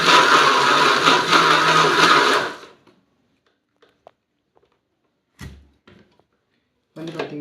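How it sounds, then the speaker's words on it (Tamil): An electric blender grinds ripe banana with coconut milk for a milkshake, a loud steady whir lasting about three seconds before cutting off, then quiet with a few faint knocks and clatters of the jar afterward. "பண்ணிட்டு நம்ம அரைச்சி எடுத்துப்போம்."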